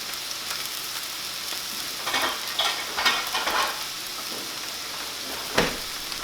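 Bread toasting in a frying pan gives a steady close sizzle and fry, with a few scrapes or stirring bursts near the middle and one sharper clatter toward the end.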